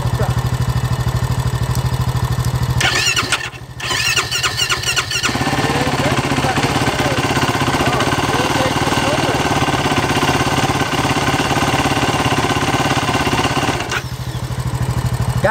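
A Yamaha YFZ450R Raptor ATV engine, brand new and suspected of a bad spark plug, runs loud and close with a rough, pulsing, uneven roar that keeps going the whole time, with voices faintly underneath.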